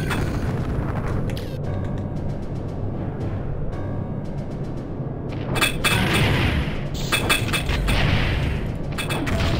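Mortar launcher firing in the video game Duke Forces, a run of loud booming blasts and crackling impacts over a continuous rumbling battle bed, with heavy bursts in the second half.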